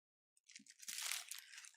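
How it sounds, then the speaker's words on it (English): A crunchy plastic bagel wrapper crinkles right up against the microphone in a close, loud, continuous burst of rustling that starts abruptly and keeps going, with no voices. "my bagel is in a really crunchy wrapper. And it's right next to the mic."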